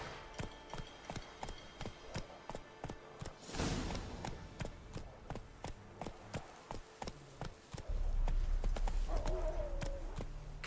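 Roach the horse in The Witcher 3 video game, hooves clip-clopping in a steady trotting rhythm of sharp, evenly spaced hits, then a louder rushing layer joins near the end, with a brief faint vocal sound.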